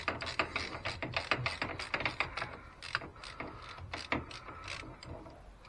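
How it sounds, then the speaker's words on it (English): A 15mm ratchet loosens a bolt on a Can-Am Maverick brake, giving rapid, close clicking strokes in uneven bursts. "Take my 15mm ratchet again."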